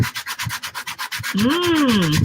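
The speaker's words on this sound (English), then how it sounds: "Let's see what happens if I sand it." Sanding across an inked surface, a rhythmic series of close rubbing strokes that gives way to a longer continuous scrape with a rising and falling squeak.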